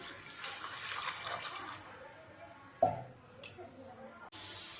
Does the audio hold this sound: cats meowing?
no